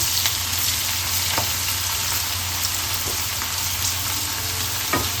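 Vegetables for no-onion, no-garlic veg fried rice frying in a pan, a dense continuous sizzle with occasional sharp crackles and spatters, close and steady with no talking.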